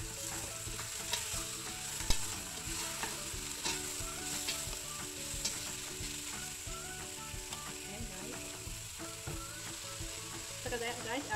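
Beef cattle tendons sizzle in a hot pan for a beef tendon curry, with a constant crackling fry and the scrape and clink of stirring throughout, close and steady.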